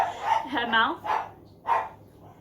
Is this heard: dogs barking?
yes